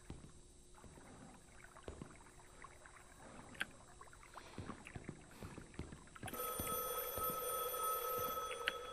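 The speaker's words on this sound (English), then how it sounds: "Phone. That's new. That's the first noise I've heard in the entire game." Telephone ringing in the video game Liminalcore, a sudden steady electronic bell tone that starts partway through after quiet, faint ambience with scattered small clicks.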